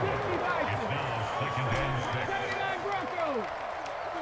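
A home crowd cheers in the Madden NFL 25 football video game, a steady roar of stadium noise throughout, with a commentator talking over it.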